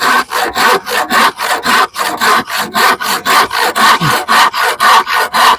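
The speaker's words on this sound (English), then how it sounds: "I haven't used a handsaw in a long time, so I thought, well, this would be a good opportunity to come back and use a handsaw." A handsaw cuts through a wooden board for a potato box in steady back-and-forth strokes, about three per second, rasping loudly and close with no talk.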